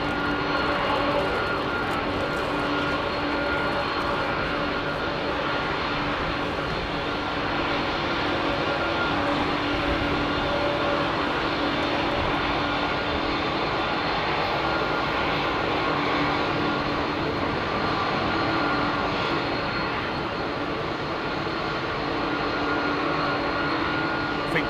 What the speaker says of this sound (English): Qantas rolling in right after him, mate.